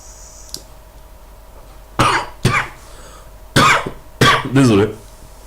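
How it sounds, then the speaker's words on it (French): A man coughs in several harsh bursts after vaping a 60/40 e-liquid, loud and close, with short pauses between the fits and no talking. "Bon, là, je tousse."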